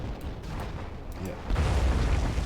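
A carpet cluster bomb strike in the C&C Generals strategy game sends rumbling explosions rolling across the battlefield. The booms thicken into a heavy, continuous blast partway through, with a voice talking over them.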